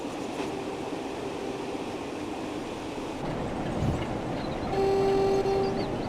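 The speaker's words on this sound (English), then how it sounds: "you can hear the engine idling, just blip, blip, blip, blip, because the engine's not doing anything" A diesel train engine idles in Train Sim World 4 on the Blackpool Illuminations route while the train runs fast. A low steady rumble continues throughout, a louder whine rises near the end and a sustained horn-like tone enters late.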